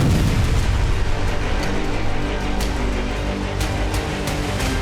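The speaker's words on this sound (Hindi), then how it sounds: "इसीलिए इतना जोरदार धमाका हुआ।" Anti-tank missile strike on a Russian MLRS in the war in Ukraine, heard as a dense, loud roar of blasts and rumble with scattered sharp bursts, sustained at close range with no voices.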